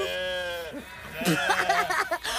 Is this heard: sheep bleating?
yes